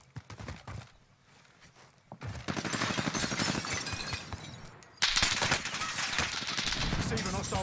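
Gunfire in a tactical shooter game: a quiet stretch with scattered sharp reports, then dense, sustained rattling bursts that grow louder and keep up to the end, with no voices over them.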